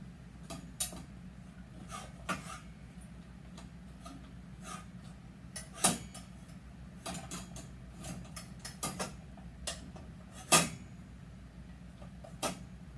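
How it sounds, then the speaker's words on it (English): A double roller kitchen tool clangs and clicks in a home kitchen, with scattered light metallic ticks and taps at uneven intervals, fairly faint over a low steady hum. "If you hear that clanging, it's because my double roller wants to be a womp rat."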